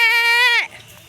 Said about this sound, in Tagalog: yung alaga natin na kambing